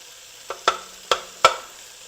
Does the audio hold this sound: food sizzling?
yes